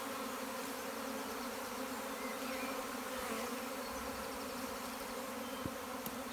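Many honeybees drone in a constant, thick hum close by as a shrub is shaken, with a faint rustle and a brief knock toward the end.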